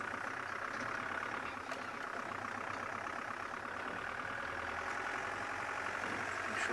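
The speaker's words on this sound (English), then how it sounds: "They didn't like the sound of this diesel engine though." A safari vehicle's diesel engine idles on a game reserve in steady low chugging, a constant moderately loud drone with no obvious speech.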